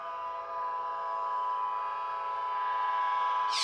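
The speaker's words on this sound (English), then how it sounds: "I hate that damn train, man" A train horn sounds as a train passes, one long, sustained, steady horn blast heard from a distance and holding through the whole stretch without a break.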